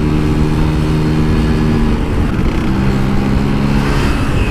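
A Vespa scooter engine runs steadily while being ridden, a loud, continuous drone with a shifting low pitch that stays close and even for several seconds.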